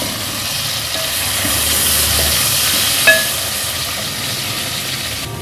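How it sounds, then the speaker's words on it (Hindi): Tomato tossed into garlic and ginger already frying in a pan for an aloo matar curry gives a steady, close sizzling hiss throughout, with one brief clack partway through. "लहसुन अदरक को भूनने के बाद अब मैं इसमें डाल दूंगी 1 मीडियम साइज़ का टमाटर।"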